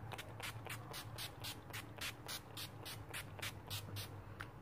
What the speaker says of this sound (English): now I'm gonna set the makeup with the NYX Dewy Finish